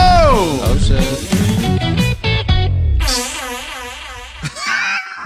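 A loud, drawn-out fart sound plays back from a video clip, with wavering squeaky tones and a sharp burst near the end, heard clearly with little talk over it.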